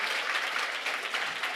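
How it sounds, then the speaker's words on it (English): An audience at a youth technology event gives a short burst of steady, even applause, heard alone without talk. "Please give yourself a round of applause."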